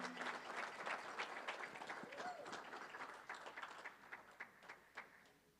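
Audience applause at an athletics hall of fame induction, sustained clapping from a hall crowd that thins into scattered individual claps toward the end.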